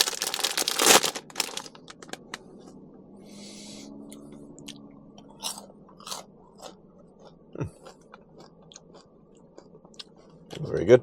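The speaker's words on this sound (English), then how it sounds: "It's a real solid potato chip." A solid, crunchy puffed-corn potato chip being bitten and chewed close by, with a loud crunch at the start and scattered smaller crunches and mouth sounds, while someone talks briefly.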